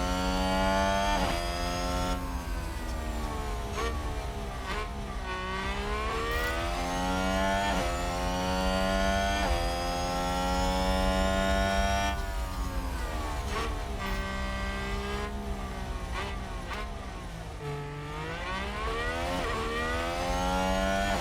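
Formula 1 cars in the racing game F1 Manager 2022 scream past while overtaking, layered high-pitched engine notes rising and falling with gear changes, loud and continuous with several cars audible together.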